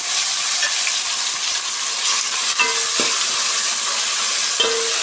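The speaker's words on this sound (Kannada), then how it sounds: "ಈ ಥರ ಟೊಮೆಟೊ ಎಲ್ಲ ಆಯಿಲಲ್ಲಿ ಫ್ರೈ ಮಾಡಿ ಹಾಕೋದ್ರಿಂದ" Cut tomatoes frying in hot oil in a pan, a steady close sizzle with a few clinks of stirring, no voices.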